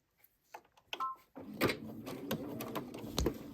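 A domestic sewing machine stitches a dish towel, starting with a few scattered clicks and handling noises before settling into a steady whirring run of stitching, close and quiet.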